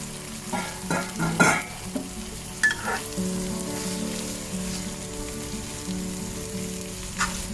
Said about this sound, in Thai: จากนั้นก็นำหมูที่เราหมักไว้เทลงผัดได้เลยค่ะ